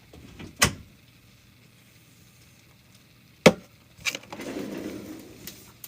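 Indoor door sounds after a cat goes out: a sharp knock, then a louder thud and rattle as the door shuts, followed by faint handling noise.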